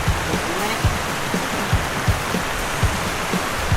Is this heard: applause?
no